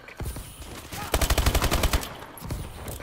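ASM1 submachine gun in Call of Duty Advanced Warfare: a rapid automatic burst of about a dozen evenly spaced shots, loud and close, with a few scattered single shots around it.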